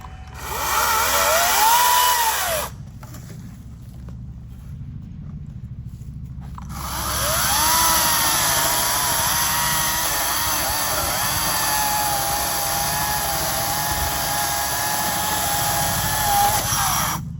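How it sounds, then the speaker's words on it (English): A battery chainsaw whines loudly at a campsite, pitching up and down as it cuts wood, stops briefly, then runs again steadily for a long stretch. "Battery operated chainsaw."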